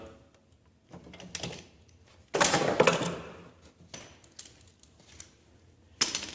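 Bolts on a Lawnboy Insight single-stage snow blower are snugged up with vise grips, giving sparse metallic clicks and scrapes in short bursts, one louder clatter midway, fairly close in a quiet shop.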